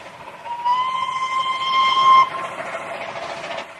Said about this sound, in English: Mike's whistle